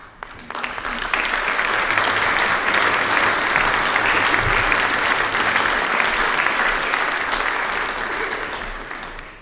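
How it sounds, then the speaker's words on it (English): A chapel audience at a Cornwall Air Ambulance evening in St. Just claps steadily, dense and loud applause sustained from start to finish with no speech. "It's not often I get applauded at the beginning"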